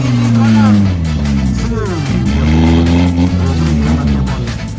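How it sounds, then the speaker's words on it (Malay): Mitsubishi Pajero 4x4 engine braking on an off-road course, a loud, close, steady engine drone that rises and falls in pitch as it holds the vehicle back, with people talking over it. "Engine braking dia break dengan engine saja."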